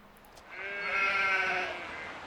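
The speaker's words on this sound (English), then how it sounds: "Sheep farm." A sheep bleats once at a sheep farm in Knights of Honor II, a clear, drawn-out wavering call rising and fading over a quiet background.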